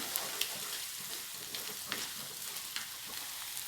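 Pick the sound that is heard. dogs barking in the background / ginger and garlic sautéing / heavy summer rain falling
ginger and garlic sautéing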